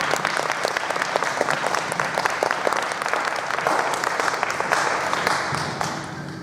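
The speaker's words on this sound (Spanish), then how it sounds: "recibamos a este grupo con un caluroso aplauso" Audience applause welcoming a prehispanic-inspired music group at a Náhuatl culture event, dense and steady clapping from a sizeable crowd throughout, tapering slightly toward the end.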